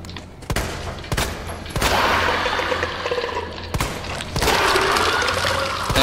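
Loud gunshots in the Resident Evil 2 Remake video game ring out in an underground Umbrella lab, five or six heavy reports spaced irregularly over a steady rumbling, echoing background, with no speech.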